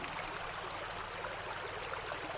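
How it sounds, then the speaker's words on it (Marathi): A clear stream flows through a Konkan village, giving a steady, broad wash of running water at an even level, with no voices. "जिथे वाहतं पाणी बघता येईल आणि ते पण काचेसारखं शुद्ध"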